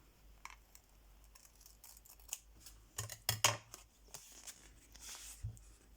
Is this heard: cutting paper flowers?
yes